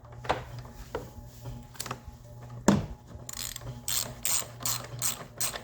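Ratchet wrench with an extension and a 13 mm socket loosening the battery hold-down bolt on a 2014 Hyundai Tucson, with a few separate clicks first and then rapid bursts of close, sharp ratcheting.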